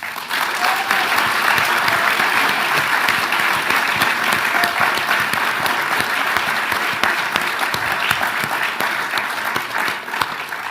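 A large audience at the Victoria Australian of the Year awards ceremony claps loudly and evenly, with dense, continuous applause that fills the room for about ten seconds without a break.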